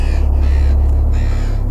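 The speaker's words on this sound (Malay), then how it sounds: "Suara gagak tetap bersahut-sahutan." Crows caw back and forth under a heavy, droning low rumble that dominates the short stretch, the calls faint and partly masked.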